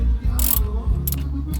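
A ratchet tightening bolts beside a brake line on an old stepside truck, a few quick bursts of clicking close by over a low background hum.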